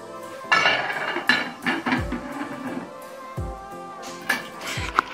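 Okra sauce with chicken stirred in a metal pot, a spoon scraping and knocking against the sides in several distinct clanks and scrapes, close and moderately loud, with no talking.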